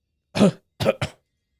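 Three quick, close coughs and throat clears, a longer one followed by two short bursts, in clean silence.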